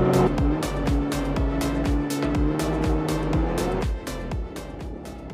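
A snowmobile rides along a snowy road, its engine a loud, close, buzzing drone with rapid rhythmic pulsing that eases off in the final second.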